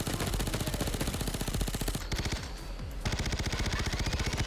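A Valkyria Rifle (AS Val) fires in the Payday 2 video game in rapid, steady automatic bursts, loud and close, with a brief pause before the rattling fire resumes.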